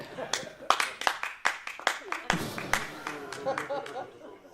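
A live comedy-show audience bursts into scattered clapping in reply to a show-of-hands poll, with sharp uneven claps spread through the room and murmuring and voices mixed in.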